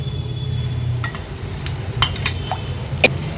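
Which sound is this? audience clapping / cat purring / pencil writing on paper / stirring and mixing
stirring and mixing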